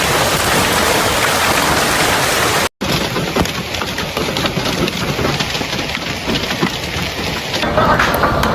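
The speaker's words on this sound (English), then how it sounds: "that's some big ass hail" Large hailstones pound down during a severe storm in South Texas, a loud, continuous roar of hard impacts with a brief dropout partway through and no voices.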